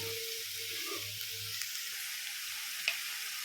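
Boiled potatoes fry in oil in a pan, giving a soft, steady sizzling hiss that stays faint and even for a few seconds. One small tap comes near the end.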